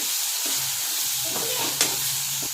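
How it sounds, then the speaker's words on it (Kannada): Chopped tomatoes frying in oil in a pan for an Indian-style vangi bath, giving a steady soft sizzle with occasional stirring clinks and one sharp scrape, close and continuous without speech. "ಟೊಮೊಟೊನ ಎಣ್ಣೆಲಿ ಚೆನ್ನಾಗಿ ಫ್ರೈ ಮಾಡ್ತೀನಿ. ಟೊಮೊಟೊ ಬೇಯ್ತಿದೆ."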